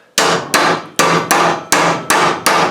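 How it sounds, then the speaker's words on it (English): Seven sharp, ringing hammer blows on a metal pipe being flattened at the end for a wok burner build, struck loud and close at a steady rhythm about every half second, each with a bright metallic ring that decays quickly. "I'll just hit it with a hammer."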